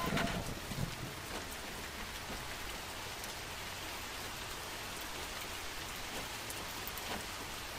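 Rain pours down in the horror video game The Mortuary Assistant, a steady wash of drops on surfaces with a brief louder burst at the start, then an even, continuous hiss with no speech.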